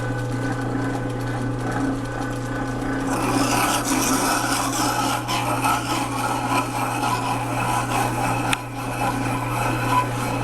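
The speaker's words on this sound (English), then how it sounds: "You can see we're grinding mainly in the center" Abrasive grit grinds a telescope eyepiece glass, giving a continuous gritty rasping that grows louder and rougher partway through over a steady low hum.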